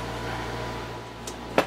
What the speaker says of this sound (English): Let me turn off the air conditioner, because that makes noise